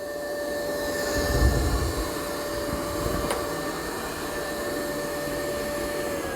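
A Yeedi M14 robot vacuum runs in quiet mode, its motors and wheels giving a soft, steady whir with a faint high tone and a brief low bump, close by with no voices.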